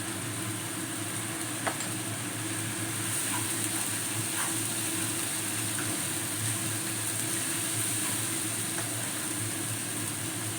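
Katla fish kalia masala sautéing in a pan gives a steady, even sizzle and frying hiss with faint stirring scrapes, continuous and moderately close throughout.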